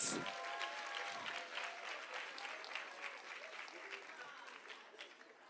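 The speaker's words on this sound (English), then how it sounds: "A round of" Audience applause at a women's day event, a broad crowd of many hands clapping that starts full and gradually fades, with a voice heard faintly over it.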